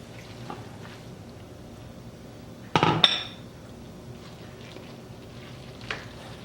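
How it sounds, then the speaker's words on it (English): Cooked noodles stirred into a melted-cheese pasta sauce in a pan for American chop suey, mostly a low, quiet rustle, with one short burst of clattering metal against the pan near the middle and a faint clink near the end. "Just mix it around."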